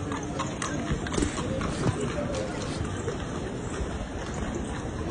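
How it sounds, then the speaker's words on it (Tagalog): Hooves of large horses pulling a tourist carriage clip-clop through the streets of Vienna, Austria, steady and fairly close amid busy street noise, with someone talking over them. "Ayan o, malalaki ang kabayo nila dito mga kapatid."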